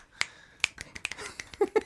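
A person snaps their fingers in a quick, uneven series of crisp, close snaps, several in under two seconds, with no talking over them.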